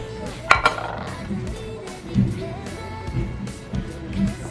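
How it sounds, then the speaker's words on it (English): A raw cut of meat goes into a baking dish in a home kitchen, giving a sharp clink of cookware near the start and softer handling knocks after it, all quiet and close. "So I'm just gonna put it in my my baking dish."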